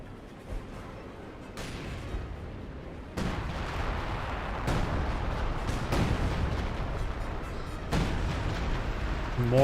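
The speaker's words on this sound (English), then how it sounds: "More major artillery." Heavy artillery fire in the World War II strategy game Company of Heroes 2 pounds out as a string of six or so loud booming impacts at irregular intervals over a continuous rumbling battlefield din.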